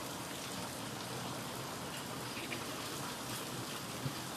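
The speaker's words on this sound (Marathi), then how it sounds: "पाऊस चालू आहे बघू शकता अजून पण" Steady rain falls continuously during a monsoon downpour at a home with a metal sheet roof, a soft, even hiss of drops on surfaces heard alone and at moderate distance.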